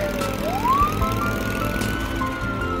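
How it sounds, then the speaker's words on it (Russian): An ambulance siren wails as it approaches, one long rising sweep settling into a steady tone over continuous street noise, loud and close. "Сюда едет скорая помощь."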